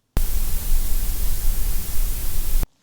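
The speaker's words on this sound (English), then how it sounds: "there's also my favorite type of noise, gray noise" Gray noise, a form of white noise shaped to sound evenly loud across human hearing, hisses steadily and alone for under three seconds, starting and stopping abruptly.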